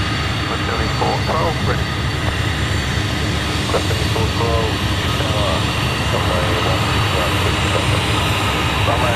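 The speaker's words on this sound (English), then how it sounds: "enjoy these beautiful sounds from the BAE 1464 burners" Jet engines of a BAE 146 airliner at Sydney Airport roar steadily as a broad, continuous rumble, with air traffic control radio chatter heard over it.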